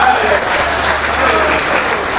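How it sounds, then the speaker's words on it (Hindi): A crowd at a comic poetry gathering in Etawah bursts into loud, sustained clapping, continuous and close, with no voice over it. "ताली बजाइए हाथ उठा के जोरदार"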